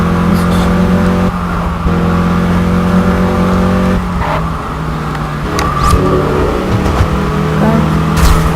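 Sustained engine drone from a car driving in the racing video game Test Drive Unlimited, steady and loud with shifting pitch as the car eases off and accelerates again, with faint game sounds over it.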